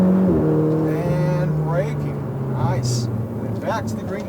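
Ferrari 488 on a racetrack, its engine note climbing in a loud, steady roar that drops partway through, heard from close by with a voice talking over it.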